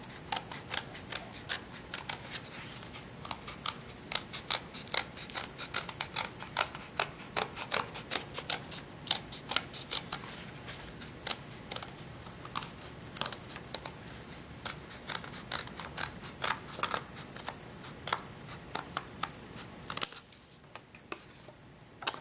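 Scissors snipping through dirt-textured cardstock, a long string of crisp close cuts and clicks in an uneven rhythm, quiet and steady, ending in near silence.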